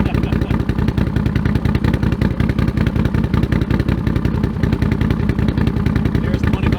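A Can-Am Renegade XMR 1000r ATV fitted with an SLG Sniper series exhaust idles steadily nearby, its loud, even pulsing rumble running throughout without a break.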